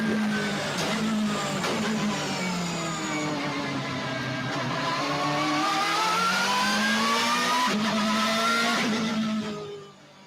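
A BMW race car engine and transmission whine steadily, the pitch sweeping down and back up as it accelerates, loud and fairly close before fading out at the end.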